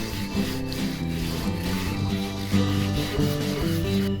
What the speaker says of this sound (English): Fill the holes and then sand it smooth.